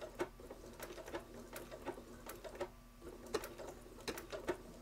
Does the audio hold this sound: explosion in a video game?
no